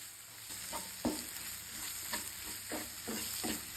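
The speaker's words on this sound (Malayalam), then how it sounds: "അപ്പോൾ ഇതെല്ലാം ഒന്ന് ചേർത്ത് നമുക്ക് നന്നായി മിക്സ് ചെയ്ത് കൊടുക്കാം." Spice powders, including Kashmiri chili powder, are stirred into a prawn masala base in a pan. A close, even sizzle runs throughout, broken by about half a dozen distinct spoon scrapes at an unhurried pace, with no voices.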